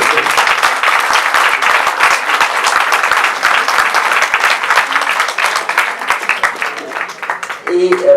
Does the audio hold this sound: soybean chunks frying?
no